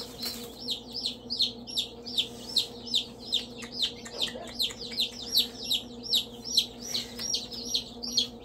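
Chickens in a brooder give a quick run of repeated chirps and clucks, steady and fairly close over a low background hum, with no talking.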